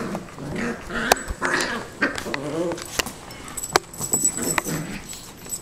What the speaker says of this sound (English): this is my dog, Daisy, and she is very, very playful.